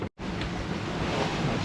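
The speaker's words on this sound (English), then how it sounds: "There's some big waves out there." Heavy Atlantic swell rolls past a boat at sea, a loud, continuous wash of water and wind buffeting close to the microphone, after a brief dropout at the start.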